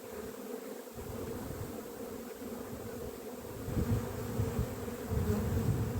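Honeybees buzzing steadily at an opened hive during swarm preparation on the coast, a dense close continuous drone that swells slightly toward the end, without speech.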